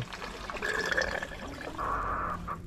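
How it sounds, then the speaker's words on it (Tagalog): Yesterday's water trickles and gurgles as it drains away while a chicken enclosure is cleaned, quiet and close, with faint bubbling tones rising and falling. "Kailangan i-drain natin yung yung tubig kahapon"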